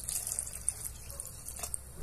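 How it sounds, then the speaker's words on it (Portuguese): Water is poured into a pot of bean broth while cooking, a soft continuous splashing and trickle, quiet and close, with no talking. "Agora nós vamos colocar água."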